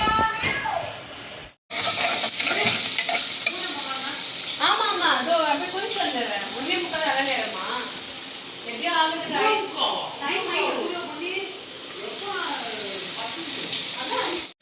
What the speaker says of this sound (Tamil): வெறும் வெங்காயம் எண்ணெயில் வதக்குறாங்க